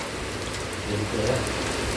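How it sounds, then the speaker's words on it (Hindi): Heavy rain falls outside in a dense, steady wash of hiss that stays even and fairly loud throughout, with no voices heard. "बारिश तो बिल्कुल ख़तरनाक वाली लगी हुई है"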